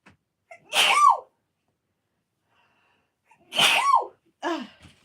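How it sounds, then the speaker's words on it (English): Two loud, close sneezes separated by a quiet pause, the second followed quickly by a smaller sniff or catch of breath. "Hold on, I'm going to sneeze."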